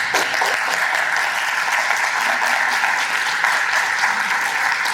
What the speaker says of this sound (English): So I want you all to applaud and thank this woman because she had the vision.